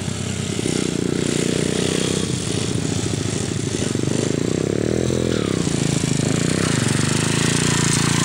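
A geared motorcycle ridden by a beginner, its engine droning steadily at moderate volume with slight pitch shifts as it moves, heard from a short distance.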